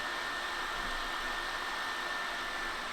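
An Intel stock CPU cooler fan on an AMD Ryzen 7 9800X3D under Cinebench R23 load gives off a constant, even whooshing roar with a faint steady whine, unchanging throughout.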